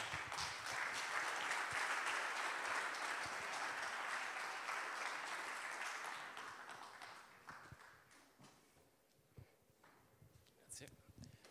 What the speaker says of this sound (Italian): per il quale chiedo un grande applauso